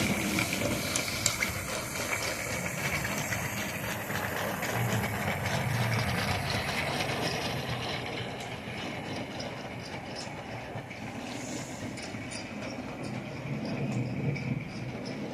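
A 009 narrow-gauge model train runs round its track, giving a steady, close, low whirring rumble with faint clicking that continues throughout without voices.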